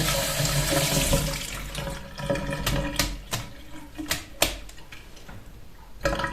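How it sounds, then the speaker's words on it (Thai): Tap water runs and splashes while wild cat's-ear leaves are washed one by one to remove soil, with uneven clicks and knocks over the flow and no talking. "ต้องล้างเขาสะอาด ตัดออกมาเป็นทีละใบนะคะ เพื่อที่จะได้ทำความสะอาด ได้ง่าย"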